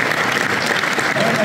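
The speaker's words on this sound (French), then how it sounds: "Sous vos applaudissements, s'il vous plaît." Gala audience clapping at a motorcycle adventure festival awards night, a brief burst of dense, steady applause with a voice faintly underneath.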